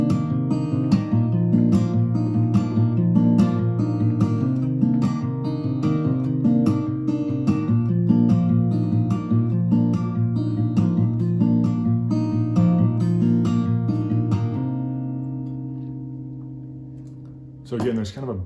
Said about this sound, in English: After he does some picking, he'll start doing some slaps in there,